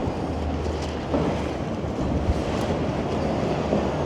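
Freight train rolling along a rail corridor in midtown Toronto, a steady mid-distance rumble with faint wheel clatter, no voices.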